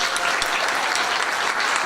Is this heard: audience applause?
yes